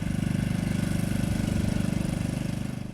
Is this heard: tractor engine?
yes